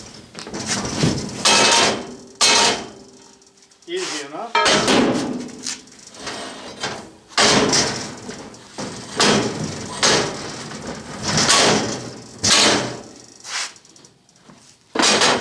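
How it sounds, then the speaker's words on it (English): Leftover sand is knocked off a metal casting in a workshop shakeout: a series of loud, sharp knocks and rattles in irregular bursts, with a brief spoken remark between them. "And I'll knock out the rest of the sand."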